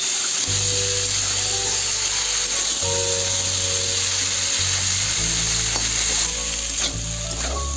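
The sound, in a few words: potato, raw plantain and pointed gourd frying with salt and turmeric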